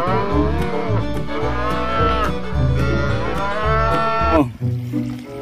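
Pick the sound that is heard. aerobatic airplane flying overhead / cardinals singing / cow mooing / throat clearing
cow mooing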